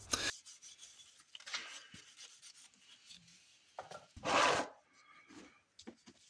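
Golden oak stain being rubbed lightly onto wooden slats by hand makes soft, intermittent rasping strokes, close and fairly quiet, with short pauses between wipes and one louder scrub near the end.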